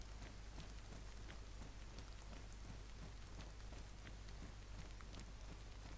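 Steady rain falls in the survival video game DayZ, a dense, continuous hiss of drops that holds at an even level throughout with no voices.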